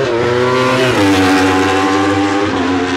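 Superbike racing motorcycles scream past a pit wall one after another in a loud, continuous passage, with rising and falling engine pitch as each machine approaches and pulls away close by.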